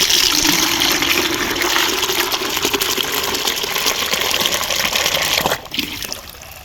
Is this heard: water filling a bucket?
yes